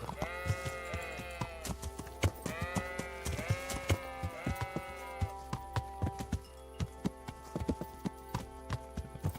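Horse hooves clip-clop steadily along a path in the medieval game Kingdom Come: Deliverance, loud and close, while sheep bleat repeatedly nearby in the first half.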